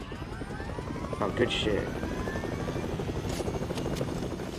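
A video-game helicopter drones steadily through the whole stretch, a loud rotor hum with a brief swell partway through, while a player talks over it.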